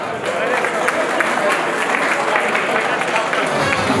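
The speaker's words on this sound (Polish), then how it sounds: "Wielkie brawa" Loud, sustained applause and cheering from an audience at a speedway awards ceremony, dense clapping filling the hall for several seconds before tapering off.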